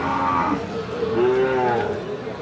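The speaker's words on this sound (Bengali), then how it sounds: "ওই পাশে দেখতেছি বেশ কিছু বাছুর।" Sahiwal breed bull calves at a busy cattle market give a drawn-out low moo and then a second rising moo, fairly close, over steady market crowd murmur.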